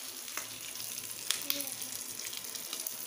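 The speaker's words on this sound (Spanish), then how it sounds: "Sofreímos y esperamos" Oregano sautéing in a pan for a lentil dish, a steady soft sizzle and frying hiss with a few faint stirring clicks, close and continuous throughout.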